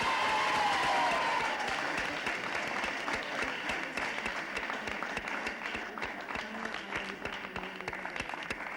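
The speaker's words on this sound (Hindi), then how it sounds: "इसमें भी तालियां जोरों से बजा सकते हैं।" Sustained audience applause at a school quiz prize ceremony, dense clapping that fills the whole stretch at steady strength, gradually thinning slightly toward the end with a brief musical tone near the start.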